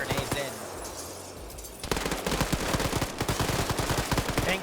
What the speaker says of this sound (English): Good call on shooting the windows out and throwing grenades in